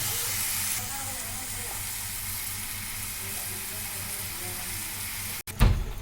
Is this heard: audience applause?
no